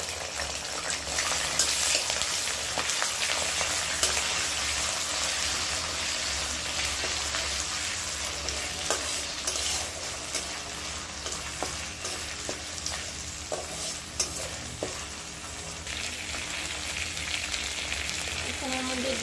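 Ground spice paste sizzles loudly in a hot pan with eggplant and potato, a dense, continuous frying hiss with occasional stirring scrapes, close and steady throughout.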